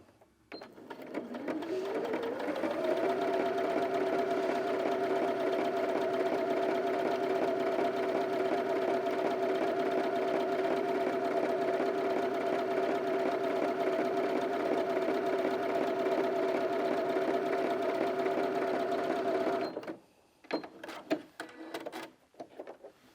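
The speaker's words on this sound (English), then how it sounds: "So this is a triple straight stitch here, and it is a straight stitch, but it does 3 stitches instead of 1" A Janome Sewist 780DC sewing machine sews a triple straight stitch. Its motor spins up into a steady, close, even whirring run for about seventeen seconds, then stops, followed by a few light clicks and handling sounds.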